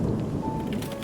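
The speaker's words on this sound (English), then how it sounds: "Here comes the downpour." Heavy rain pours down in the Love and Deepspace video game, a dense, steady wash of noise that stays loud and unbroken for about a second, with no voices.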